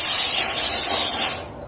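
A HomeRight SteamMach steam cleaner blasts a loud, continuous hiss of steam onto a toilet, holding steady for over a second before cutting off abruptly.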